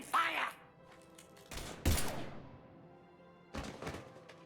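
Gunfire in Mass Effect Legendary Edition on the Citadel, a few sharp separate bursts and thuds spaced across the moment, with a brief voice at the start.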